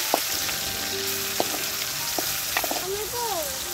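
Onion, tomato and green chili fry in oil in a kadai, a steady close sizzle with occasional stirring clinks and a few faint background calls.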